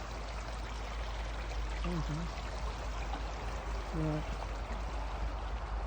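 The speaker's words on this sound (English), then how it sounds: "Little bridge, if you can hear the water, makes you want to go toilet." Water streams steadily beneath a small bridge outdoors, a constant close rushing flow with brief speech over it.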